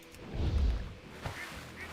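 A duck quacks in the online role-playing game Turtle WoW, a few soft honking calls set against low, rumbling game ambience with no talk.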